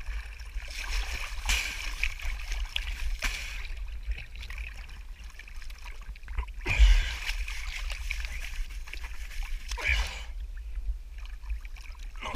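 A boat's dirty, mud-splashed hull is scrubbed while it sits in the water, giving faint splashing and swishing strokes that come in a few louder bursts over quiet lapping water.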